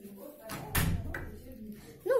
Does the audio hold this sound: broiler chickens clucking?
no